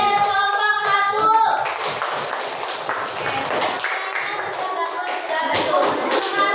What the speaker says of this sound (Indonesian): Beri tepuk tangan dulu untuk kelompok 3 dan kelompok 1.